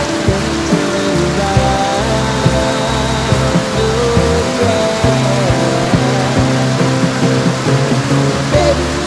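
Heavy rain pours steadily during a motorcycle ride in the Philippines, a dense broadband wash that runs the whole time with vehicle engine rumble beneath it and a brief voice near the end.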